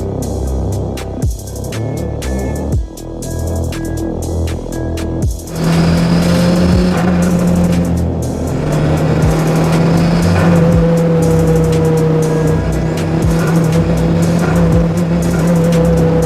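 A Honda Civic EK9 Mugen Concept car drives nearby, its engine note shifting from choppy, revving bursts into a loud, sustained drone with changing pitch, no voices.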